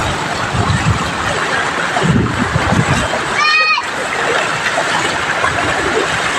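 Floodwater from heavy rain rushes through a broken wall, a loud continuous wash of splashing water. A voice and a brief higher call sound over it partway through.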